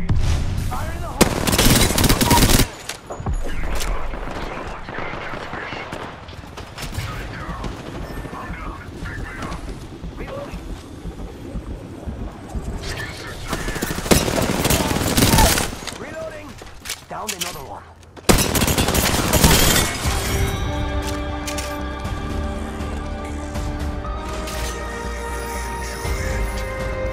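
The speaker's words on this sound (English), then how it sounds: "The enemies are shooting at me" Bursts of rapid R99 submachine-gun fire from the Apex Legends video game, loud and sharp in several separate volleys, with quieter game sounds and mechanical clicks between the volleys.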